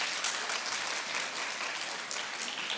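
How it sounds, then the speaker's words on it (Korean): Steady, even applause from a church congregation welcoming a pastor to the pulpit fills the moment, a dense wash of many hands at moderate loudness. "목사님 나오실 때 우리 박수로 환영하도록 하겠습니다"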